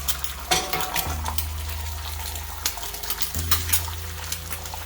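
Eggs frying in a new Lodge cast iron skillet give off a steady sizzle, with occasional clinks and scrapes of a utensil against the pan nearby.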